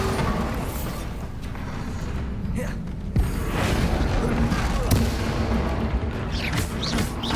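Bombarda blast spell in Hogwarts Legacy, a sharp impact near the three-second mark followed by another thump, set among ongoing combat rumble and mechanical clatter at moderate level.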